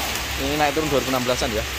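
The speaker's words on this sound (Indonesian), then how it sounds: "Mohon maaf hujan dari seberang." Steady rain hisses loudly and evenly outdoors at a used car dealership, continuing under someone talking throughout.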